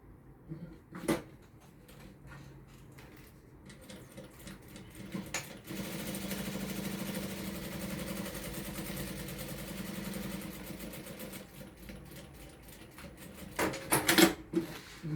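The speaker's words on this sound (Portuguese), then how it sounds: "vou passar uma costura em cima dessa aqui, onde já foi feita anteriormente, para prender a minha aba na minha peça principal" A sewing machine stitches a flap onto a cosmetic bag, running over an earlier seam. It hums steadily at mid volume for several seconds, with fabric handling and clicks before and after.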